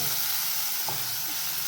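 Raw ground green masala of green chillies and tomato fries in oil with a dense, even sizzle and a couple of faint stirring knocks.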